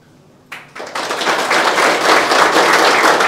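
Audience applause at a Tamil talk on heart health, beginning after a short quiet moment with a few scattered claps, then swelling into dense, sustained clapping from a crowd.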